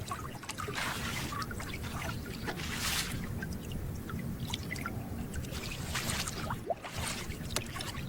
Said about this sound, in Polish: Jeden z rybaków wylewa wodę z dna łodzi przy pomocy drewnianej szufelki.